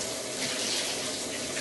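A shower runs steadily at close range, a dense continuous hiss of spraying water with no pauses or voices.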